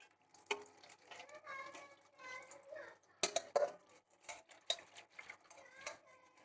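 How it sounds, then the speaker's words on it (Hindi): Dishes being washed by hand at a home kitchen sink under running water, with scattered clinks of pots and cutlery over a steady water flow, and a voice calling now and then. "अब बर्तन धोने में लगी हुई हूँ"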